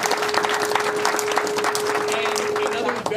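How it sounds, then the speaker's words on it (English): Applause from an audience at a high school mock Supreme Court event, dense clapping throughout with a steady tone underneath and some voices mixed in, ending abruptly. "another round of applause for Professor Smolla for"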